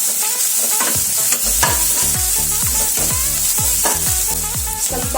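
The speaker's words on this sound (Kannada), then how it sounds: "ಒಂದು ಸ್ವಲ್ಪ ಈರುಳ್ಳಿನ ಫ್ರೈ ಮಾಡ್ಕೊಳ್ಳೋಣ." Onions frying in hot oil for gobi manchurian, sizzling loudly and steadily while a utensil stirs and scrapes the pan in repeated strokes.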